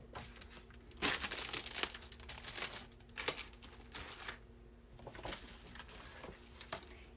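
Sheets of 140 lb mixed media watercolor paper are handled, giving repeated crinkling, rustling and crumpling sounds up close, with a louder burst early and softer handling noises after it, and no talk.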